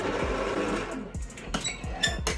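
An electric mixer whirs on low speed through red velvet cake batter of buttermilk, red food colouring, vanilla and dry ingredients, a close steady motor hum broken by a few sharp clicks and knocks toward the end.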